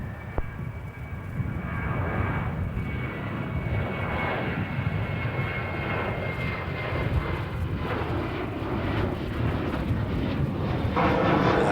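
Aircraft landing on runway 16 at Melbourne Airport, a continuous loud roar of engine and rushing air that holds steady and swells slightly toward the end, with no voices.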